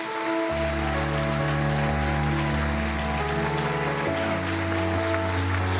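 A church congregation gives a standing ovation, a loud, steady wash of clapping that fills the whole stretch with no break. Sustained musical tones from instruments run beneath it.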